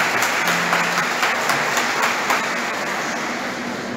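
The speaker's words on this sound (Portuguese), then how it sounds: "nos alegrar também com a presença de Mateus, dando para ele e para a família uma salva de palmas." Congregation applause during a Sunday Mass in Advent welcoming a newborn, steady and fairly loud clapping sustained throughout, slowly tapering toward the end.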